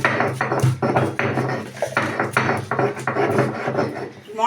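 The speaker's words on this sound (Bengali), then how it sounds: "মশলাটা আমি বেটে নিচ্ছি।" Hand-grinding of cumin and spices on a stone slab, a steady run of close rasping, rubbing strokes with occasional knocks, loud and alone with no talk.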